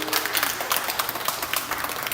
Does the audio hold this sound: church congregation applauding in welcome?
yes